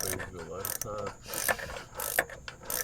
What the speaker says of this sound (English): This is a ratchet and wrench